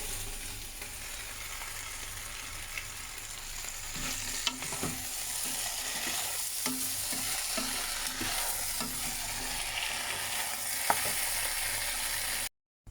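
A potato omelette sizzling and crackling in a hot pan over low heat, a continuous hiss with occasional clicks and scrapes, close up, ending abruptly.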